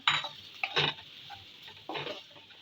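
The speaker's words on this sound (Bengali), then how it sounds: "হলুদের গুঁড়া মরিচের গুঁড়া ধনিয়ার গুঁড়া জিরার গুঁড়া আর গরম মশলার গুঁড়া লবণ সব একসাথে দিয়ে এখন একটু বেজে নিব" Turmeric, chili, coriander, cumin and garam masala powders with salt stirred and fried in a pan: a few close, scraping strokes of a spoon against the metal over a faint sizzle, with no talk.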